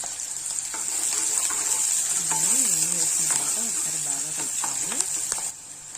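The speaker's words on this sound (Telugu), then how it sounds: "ఒక సైజు ఒక మీడియం సైజు ఆనియన్ కర్రీకి చేసి వేసుకున్నాను" Chopped onion frying in oil with cumin, mustard seeds and chana dal for brinjal curry: a steady, close sizzle with stirring scrapes, while a person talks over it in the middle.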